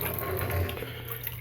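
Wort swishes and churns steadily as it is stirred in one direction in a filled bathtub of cold water, a continuous close sloshing with no voices.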